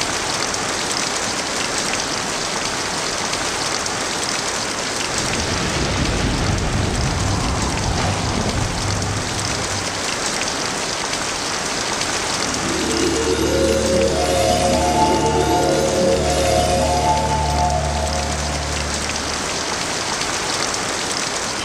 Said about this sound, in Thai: ตลอดสัปดาห์นั้นมีฝนตกพรำตลอดเวลา